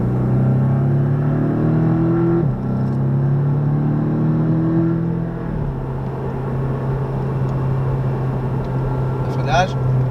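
Porsche 718 Cayman on the Le Mans circuit, engine droning loud and steady close by with rising and falling tones as it accelerates, the note dipping briefly between gears, with a voice talking over the engine.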